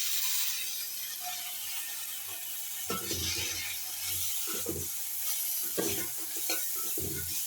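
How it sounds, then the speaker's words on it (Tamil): Cashew-fruit devil is stirred in a pan over steady frying sizzle, with repeated scraping and clattering of the spoon against the pan in uneven bursts, close and clear with no talking. "இதை பிரட்டி இப்படியே பிரட்டிட்டு இதுக்குள்ளே சோஸ் விடுவோம்"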